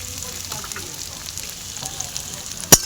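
Ginger paste, garlic and spices fry in a pan for a chicken kasha, making a soft, even sizzle up close, with one sharp clink near the end.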